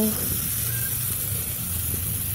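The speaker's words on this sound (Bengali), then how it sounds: "পুরো একদম তেলটা গরম হয়ে গেছে, হয়ে মাছটা ভাজা চালু হয়ে গেছে" Steady sizzling of fish frying in hot oil, a continuous hiss with faint background noise.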